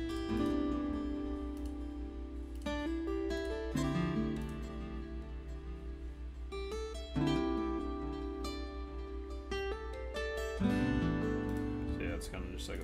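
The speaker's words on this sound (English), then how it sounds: "Efimov acoustic guitar, and it sounds like this." A sampled acoustic guitar, the Ilya Efimov library, plucks layered chord patterns in a beat-making session. It sounds bright and sustained, with chord changes every few seconds over a low steady drone.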